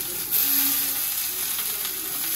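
Pointed gourd frying in a pan with onion, garlic and dried chili, making a close, continuous hissing sizzle with a faint soft stir partway through and no talk.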